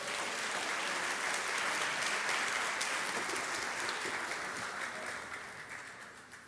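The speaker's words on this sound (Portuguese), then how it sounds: "Aplauda ao Senhor, irmãos, por favor." Church congregation applauding the Lord during a sermon, a dense sustained wash of clapping that holds steady and then fades toward the end.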